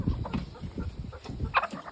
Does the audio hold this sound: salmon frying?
no